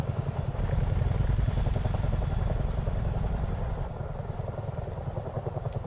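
A Chinook helicopter in Microsoft Flight Simulator 2024, flown in multiplayer over New Zealand, gives a loud, continuous, rapid rhythmic thudding from its twin rotors over a deep engine drone.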